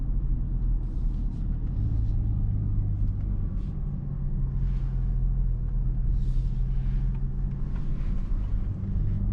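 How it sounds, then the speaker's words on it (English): A steady low engine rumble from inside a 2024 Mercedes GLC Coupe AMG driving at night, droning continuously with faint road noise and no voices. "I can feel the car is actually going much more into the revs than before."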